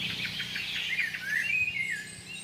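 Several birds chirp and tweet at a small watering dam in the Gontougo countryside, with thin, high, repeated calls and a few short whistled trills. The calls sound moderately close over a soft outdoor background, and no one speaks.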